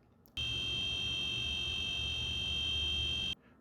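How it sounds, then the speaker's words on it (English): A loud, steady electronic buzzer on a solar can-making machine sounds a single continuous high tone for about three seconds, then cuts off abruptly. "and ring the buzzer."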